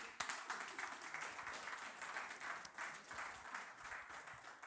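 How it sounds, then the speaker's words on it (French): A church audience applauds, a soft, distant wash of many hands clapping steadily for several seconds. "On peut les applaudir."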